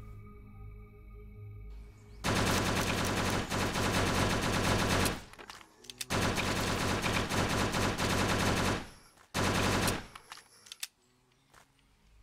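Rapid automatic gunfire in the zombie survival game Last Hope Bunker, two long sustained loud bursts with a short third burst, separated by brief pauses and quiet stretches.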